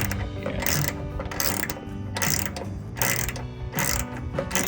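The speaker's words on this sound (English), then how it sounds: "Let's see if I can get this to do the ratchet wrench deal" A ratchet wrench threads hardware on while a tailgate assist is installed on a 2016 Ram pickup, giving close, crisp clicking in several quick bursts separated by short pauses, with no talking.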